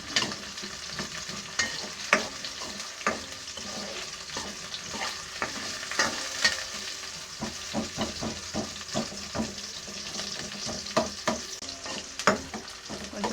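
Onion pieces fry in a pan with a steady sizzle, while a utensil stirs and scrapes, giving repeated sharp clicks over the hiss.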